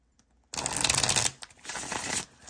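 A single close, steady run of shuffling from an iN2ITarot Contra Versa tarot deck, lasting about two seconds with a rapid flutter of cards. It starts abruptly and plays alone, without voices.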